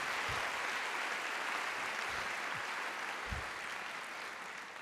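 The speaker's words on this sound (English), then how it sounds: "So another round of applause, please, for Springdale High and HAR-BER High." A school rally crowd gives a steady round of applause for two high schools, a continuous wash of clapping that slowly tapers near the end, with a few low thumps mixed in.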